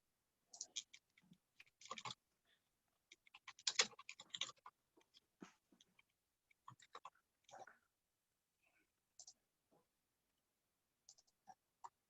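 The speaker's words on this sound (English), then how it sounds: "I'm typing them out still." Computer keyboard typing: sparse, irregular clicks in short bursts with pauses between, fairly quiet, with faint low speech at times.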